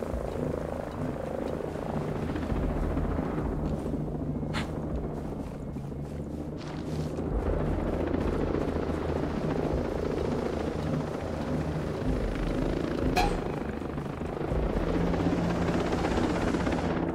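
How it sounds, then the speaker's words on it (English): Helicopter approaching in the video game Ghost Recon Breakpoint, a continuous low rotor drone that builds slightly in loudness, with a few sharp clicks and outdoor ambience layered over it. "there's a helicopter inbound."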